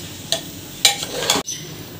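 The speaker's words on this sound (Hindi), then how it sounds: "थोड़ा सा ऐड करके अब फ्लेम कर देंगे हाई और इसको बढ़िया से मिला लिया" Mutton masala is stirred in a pan over a high flame, with a few distinct scraping strokes of a spoon against the metal over a low sizzle, close and fairly loud.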